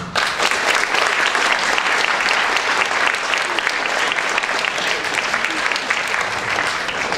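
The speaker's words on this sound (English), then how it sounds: "Let's give her a round of applause." An audience at an elocution contest claps loudly and steadily, a dense sustained round of applause that carries on for several seconds.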